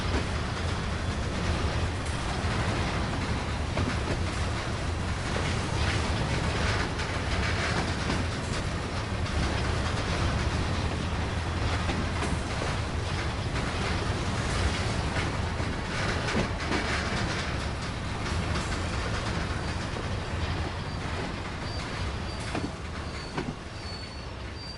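A train shunts in Train Sim World, with a continuous rumbling roll of wagons and wheels, steady and fairly loud throughout, with faint squeals and clanks over the drone.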